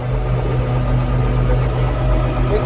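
A 50-year-old tractor engine idles and drones steadily while planting soybeans, a low rumbling hum with a constant throb, close-up and unbroken throughout.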